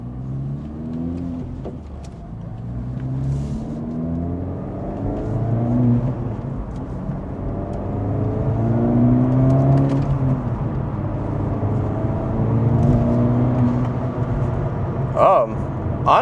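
Acura Integra Type S (DE5) with a Sprint SF air filter accelerating through a couple of pulls, heard from inside with the windows up; a steady engine drone rises and falls with shifting harmonics, and brief voices come in near the end.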